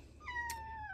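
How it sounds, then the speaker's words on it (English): A house cat gives a thin, drawn-out meow that slides downward, faint against quiet indoor room hum, with nobody talking. "Sorry, that's my cat."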